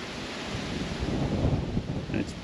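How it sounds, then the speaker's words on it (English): Strong wind buffeting the microphone on a sandy Fraser Island beach track in Australia, a loud continuous rushing roar with gusting swells throughout. "and it's bloody windy."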